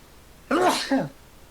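A single sneeze bursts out close by among players around a tabletop D&D game, a brief sharp vocal explosion lasting about half a second with a short trailing tail, alone in an otherwise quiet room.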